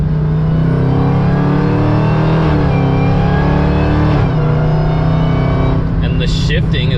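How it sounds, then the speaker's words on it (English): Supercharged Hellcat V8 swapped into a Dodge Dakota pickup, heard from inside the cab as a loud, steady engine drone with harmonic layers, rising and dipping in quick throttle blips around downshifts. "this thing sounds so different when you downshift, like watch. blips it, sounds so much more aggressive"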